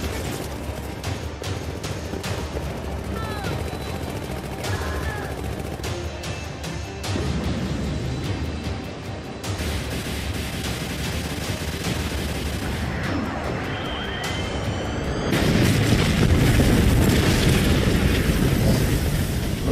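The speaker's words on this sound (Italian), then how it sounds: "Polveri di farina e scintille provocate dagli spari. Una miscela altamente esplosiva." Gunshots set off a flour dust explosion inside a granary, a dense run of sharp cracks and rumbling blasts that swells into a louder, sustained roar toward the end, with no talking.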